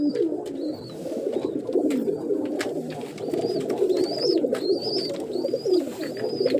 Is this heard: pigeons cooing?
yes